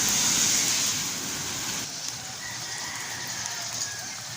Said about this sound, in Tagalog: Panaka-naka na pag-ulan na malakas.